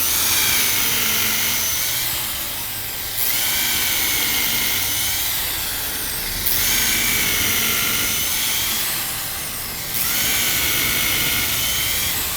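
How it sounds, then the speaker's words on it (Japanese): A power drill bores holes through a wooden mounting board for a dendrobium orchid, running loud and close in several long whining bursts with brief dips between them. "まず4箇所穴を開けていきます"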